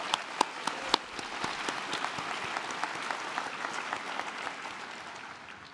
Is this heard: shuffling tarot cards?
no